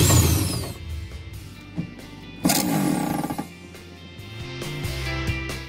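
A power drill set to reverse loosens a screw during a fuel filter change on a Toyota Wigo, giving short whirring, ratcheting bursts over a low background hum, with one louder burst in the middle.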